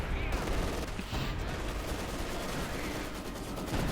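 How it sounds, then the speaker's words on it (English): Artillery and gunfire in the Company of Heroes 2 strategy game rattle in dense overlapping volleys, a steady battlefield barrage of shots and booms running throughout at moderate level. "Do not worry, it is just fascist artillery."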